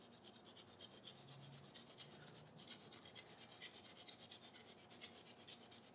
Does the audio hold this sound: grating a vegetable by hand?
yes